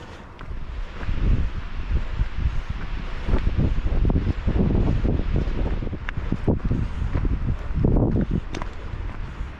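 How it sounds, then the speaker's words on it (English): Strong gusting wind on a mountain ridge on Mt Defiance buffets the microphone in loud, uneven roaring bursts, with no voices, the rumble rising and falling throughout. "Awfully windy here"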